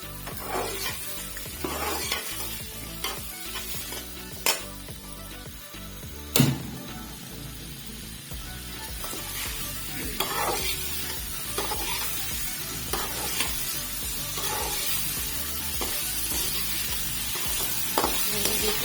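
Cut potatoes for achari aloo bhujia fry in a pan with spices, a continuous close sizzle punctuated by repeated scraping stirs and occasional sharp metallic knocks of the spoon against the pan.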